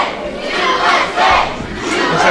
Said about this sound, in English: As the crowd starts to rally behind him.